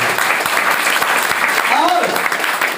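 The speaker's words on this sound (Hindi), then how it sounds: "एक जोरदार ताली" Loud, dense applause fills a training hall as the audience claps steadily throughout, with a voice briefly rising over the clapping near the end.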